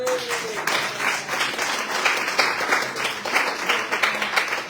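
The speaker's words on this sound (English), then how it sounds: "I think he needs a round of applause" A church congregation claps for a helper during a service, a steady round of applause that holds fairly loud for the whole stretch, with faint voices beneath.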